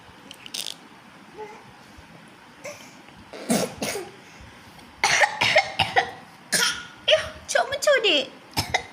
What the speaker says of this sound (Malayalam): ചുമച്ചോടി.